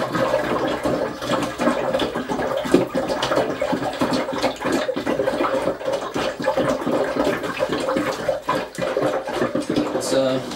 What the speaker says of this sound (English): Now I'm going to put some water in that now.